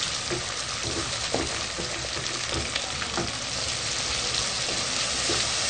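Browned onions and tomatoes fry in a pan, a steady close sizzle with occasional stirring clinks and scrapes throughout.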